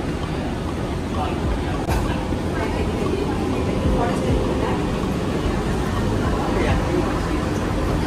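A metro train rolling toward Dakshineswar produces a constant, loud interior rumble and rushing noise, with a faint murmur of passengers in the carriage.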